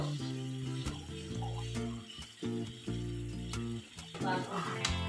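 Pumpkin pieces dropped into okra frying in a pan, a steady close sizzle with scraping and stirring clinks throughout, no voices.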